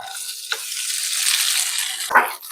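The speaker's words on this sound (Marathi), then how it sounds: "हा उकडलेला स्पायरल पास्ता घालूया," Boiled spiral pasta sizzles and fries in butter in a pan, a steady close hiss with a couple of sharp crackles and stirring scrapes.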